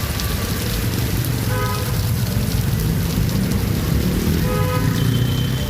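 Rain falling on the streets of Chennai, a steady broadband hiss of drops on surfaces that holds constant throughout, with faint passing traffic beneath.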